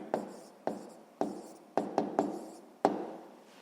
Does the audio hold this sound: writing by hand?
yes